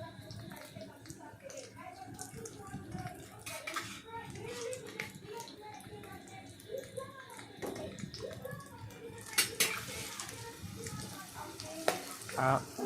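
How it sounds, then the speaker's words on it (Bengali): Potatoes fry in oil with cinnamon, cardamom and garam masala for paneer korma, a soft crackling sizzle with occasional clinks and stirring while a voice talks over it. "আমি দুই একটা আলু দিয়ে দিলাম প্রথমে দিয়ে সেটাকে ভেজে ভেজে দিলাম"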